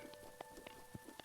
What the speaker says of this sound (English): Don't tell me it's gonna start raining.